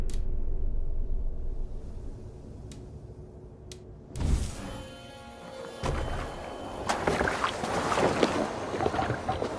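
A Viking boat sails out of a fjord in Assassin's Creed Valhalla, with water rushing and lapping against the hull, wind noise, and a thump partway through as the wash grows louder and fuller.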